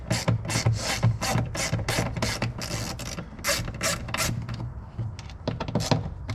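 Screws being driven with a T25 Torx bit into a replacement rear driver window motor for a 2014 Dodge Charger, giving a steady run of close ratcheting, grinding clicks in quick bursts with no talking.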